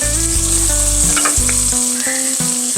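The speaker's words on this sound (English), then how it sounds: "I'm going to be adding in garlic and green onions." Garlic and green onions fry in olive oil and butter inside a Dutch oven, producing a loud, close, continuous sizzle with a steady humming drone underneath and a few brief spatters.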